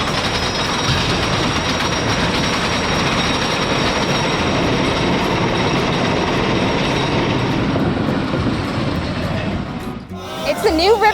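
A steam train at an amusement park rolls along its rails as a loud, steady rumble with clacking wheels, holding evenly close by before breaking off near the end.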